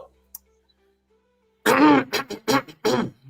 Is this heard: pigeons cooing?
no